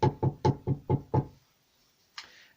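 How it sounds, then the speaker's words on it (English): Six firm knocks on a wooden door in an even, quick rhythm, close and loud, followed by a pause and then a short faint rustle. "And he knocked on the door"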